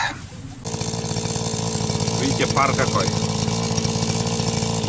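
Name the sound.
grass trimmer engine running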